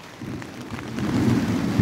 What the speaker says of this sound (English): Hear that thunder outside?